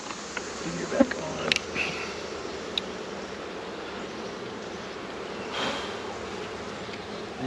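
Honey bees buzz around a hive feeder in a continuous, faint drone, with a few louder passes as single bees fly near.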